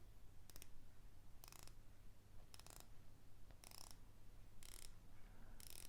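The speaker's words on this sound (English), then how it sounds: "The Bezel Type is a ceramic bezel insert, and it's 120 click uni-directional bezel. I'll just give it a turn, I'll let you listen." A ceramic 120-click unidirectional bezel on a dive watch is turned in six short bursts of rapid fine clicking, close and quiet, separated by brief pauses.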